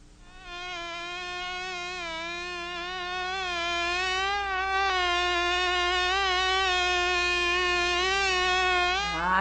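A single mosquito buzzes close by in a sustained high whine that wavers slightly in pitch and swells a little louder over several seconds, with no other sounds.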